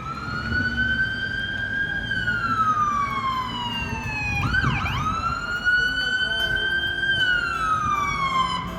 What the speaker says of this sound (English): There's always a siren ringing